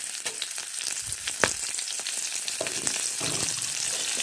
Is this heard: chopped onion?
yes